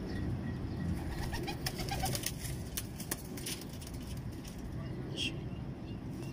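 Soft pigeon cooing in the background amid outdoor ambience, with a few faint chirps and light clicks; steady and fairly quiet.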